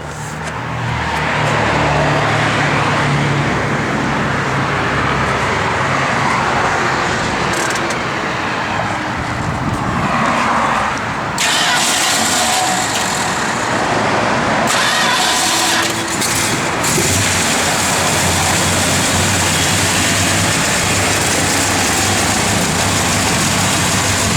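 A 1969 Plymouth Road Runner with a Hurst shifter runs with a loud, close, deep idling rumble that swells and settles across the whole stretch, with no talking over it.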